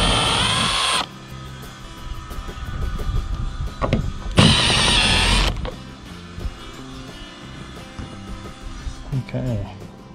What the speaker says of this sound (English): Next, we'll take out the bolts.